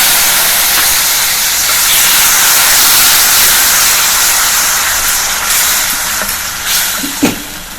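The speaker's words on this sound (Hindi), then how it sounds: "अब हम इसमें डालेंगे टमाटर की प्यूरी।" Tomato puree from a large tomato goes into a hot pan of oil, Kashmiri chilli and spices, giving a loud, steady hiss of sizzling that runs throughout, with a couple of brief clatters near the end.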